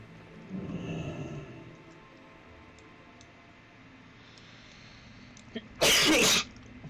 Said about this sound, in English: Oh, I just did the big sneeze.